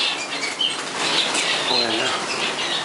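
A pet bird being caught by hand indoors in a bird room, its wings flapping in a continuous rapid flutter of dry beats lasting the whole moment, close and fairly loud with faint chirps behind.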